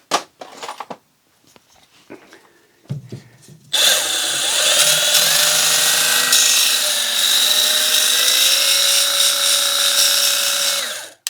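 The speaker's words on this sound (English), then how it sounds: "So if I grab a piece of wood here, see what it does" A Milwaukee M12 2482-20 cordless bandfile, a 1/2 x 18 inch belt sander, starts up and sands a piece of wood with a loud, steady whirring buzz that holds for several seconds, after a few quiet handling knocks.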